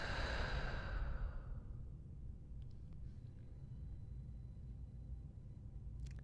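A deep exhale during a yoga backbend flow, a soft breathy rush in the first second and a half that fades into a quiet room hush.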